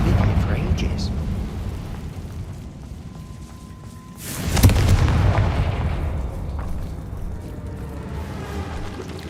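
A Confringo spell cast in Hogwarts Legacy bursts into a sudden heavy explosion midway, a sharp boom that rolls off into a rumbling tail over a low ambient background.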